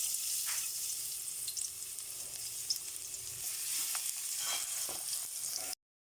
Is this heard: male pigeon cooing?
no